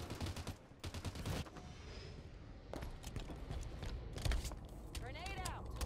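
Gunfire in the video game Halo 5 doubles, with dense bursts of rapid shots in the opening seconds, more scattered cracks later, all under steady game noise and voices talking.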